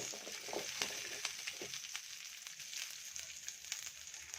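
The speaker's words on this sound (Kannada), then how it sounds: "ಚೆನ್ನಾಗಿ ಫ್ರೈ ಆಗಲಿ. 2 ಸೆಕೆಂಡು ಫ್ರೈ ಮಾಡಿಕೊಂಡ್ರೆ ಸಾಕು." Ingredients for paneer pulao sizzle steadily in a hot pan, a bright continuous crackle with occasional spatula scrapes and knocks, close and fairly quiet, with no talking.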